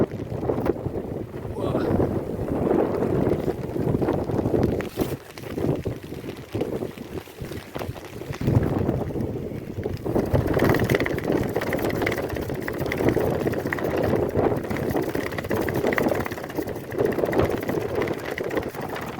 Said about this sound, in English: The wind had picked up and I was drenched.